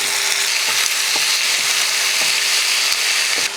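Dried red chillies, onion, tomato and mint fry in a pan for chutney, a loud, dense, continuous sizzle with occasional stirring scrapes, no voices.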